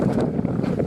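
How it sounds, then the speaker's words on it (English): Wind buffeting the microphone in a steady, heavy rumble, loud and close, on the Morteros trail in Blair Valley, Anza-Borrego, with no other sounds standing out. "It's kind of windy."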